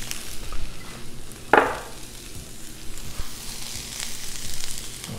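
Vegetables sizzle on a Blackstone flat-top griddle with a steady, moderate frying hiss, a sharper burst of spatter near the middle, and light scrapes in the background.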